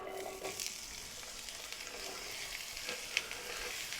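Onions fry in heated oil in a pan, a quiet, even sizzle with soft crackles and one brief sharper pop, heard alone without speech.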